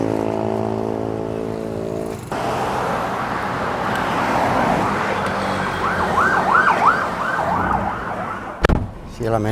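A police car with a siren passing along a street in Pattaya, Thailand, its wailing siren rising over steady traffic noise and then fading, with a sharp thump near the end.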